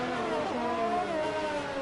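Racing cars roaring in a Formula 1 style video game at the Hungary circuit, an Alfa Romeo with hot tires and a Ferrari close behind, engines droning steadily with a pitch sweep as cars pass.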